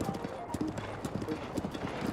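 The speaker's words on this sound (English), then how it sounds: "sometimes people enjoy just watching someone ride on a horse" Horse hooves clip-clopping in the video game Zelda Breath of the Wild, a close, rhythmic run of crisp hoofbeats at a steady trot, with faint game sounds beneath.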